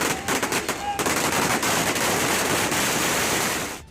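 Fireworks set off on streets during a political celebration, a rapid burst of crackling bangs that turns into dense continuous crackle, loud and close, with faint voices underneath.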